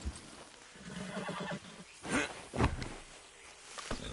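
Horse in Red Dead Redemption 2 whinnies in a couple of sharp bursts, with a low snort and some clip-clop hoof sounds around it, fairly close and without talk.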